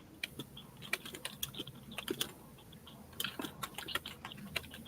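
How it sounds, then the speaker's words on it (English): Rapid, uneven clatter of keys on a computer keyboard, close and fairly quiet, with bursts and short pauses and no talking. "I'm typing. He's definitely typing."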